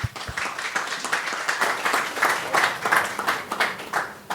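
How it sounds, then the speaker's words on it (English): An audience at an investor engagement forum applauds, a moderate, steady patter of many hands clapping that lasts several seconds at a middling distance. "Round of applause"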